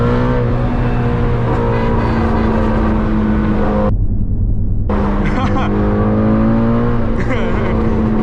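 A Ford Mustang GT350 passes on a backroad, its loud engine roar rising and falling as it goes by, cutting out briefly midway before returning, with the driver's own car droning steadily underneath.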